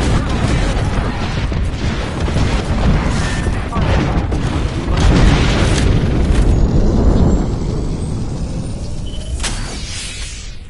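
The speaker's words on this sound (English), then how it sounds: "Airstrike!" An airstrike in Apex Legends pounds the area with loud, rumbling explosions, a continuous roaring barrage of booms and crashes that stays heavy for several seconds before easing slightly.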